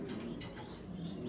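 A grizzle-coloured exhibition pigeon cooing faintly in a loft, low soft coos over a brief stretch with light rustling and no talk.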